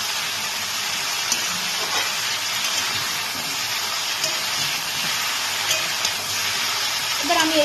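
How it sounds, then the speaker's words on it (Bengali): Mixed vegetables with spices stirred and sizzling in a pan for a vegetarian panch mishali chorchori, a steady close hiss of frying with light scraping, no speech. "এবার আমি এই সবজিগুলোকে আমি মশলাগুলো দেওয়ার পর কিছুক্ষণ নাড়াচাড়া করে"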